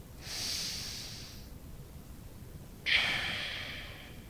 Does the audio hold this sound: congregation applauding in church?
no